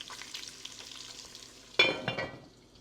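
Eight thick bacon slices crackle in a pan as they crisp and brown, a soft continuous sizzle broken by a sudden louder burst of spitting and a quick scrape midway.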